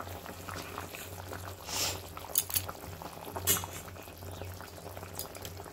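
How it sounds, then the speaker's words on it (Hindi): Water for a drumstick and fish curry boiling in a covered pot, a steady close bubbling with a few louder gurgling bursts and lid rattles, alone without talk. "पानी को अच्छे से उबलने के लिए हम ओढ़ देंगे"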